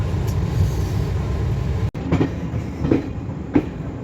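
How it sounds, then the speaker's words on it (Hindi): A Garib Rath passenger train arriving at Moradabad Junction, a division railway station, rumbles steadily with rhythmic wheel clacks over rail joints and a brief hiss of air brakes. "तो अभी हमारी ट्रेन का जो अराइवल हो रहा है वो है मुरादाबाद जंक्शन पे"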